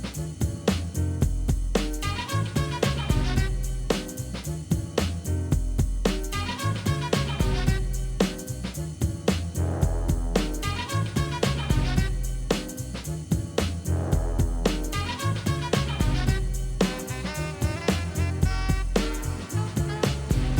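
A full music track plays continuously with steady drums, bass and layered instrumentation at a consistent loud level, with no talking over it.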